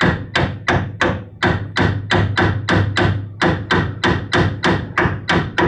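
Rapid, steady hammer blows on a car suspension wishbone, around three per second, loud and close, ringing sharply with each strike.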